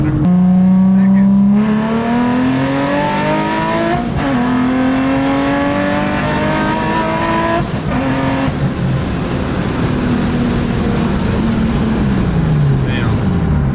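Supercharged Infiniti G35 accelerating hard through several gears, loud engine revs climbing, dropping at each shift and climbing again, with heavy wind buffeting and brief voices between pulls.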